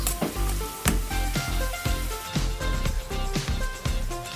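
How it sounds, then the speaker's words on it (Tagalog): Tomatoes fry in a pan for a Filipino sautéed squid dish, giving a steady close sizzle with bubbling crackle and occasional clinks, no talking. "hayaan ko munang maluto yung ating kamatis."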